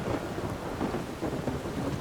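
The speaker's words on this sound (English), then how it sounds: "Oh, listen to the damn thunder." Continuous rolling thunder and heavy rain from a thunderstorm in modded Skyrim, a dense, steady rumble with no voices.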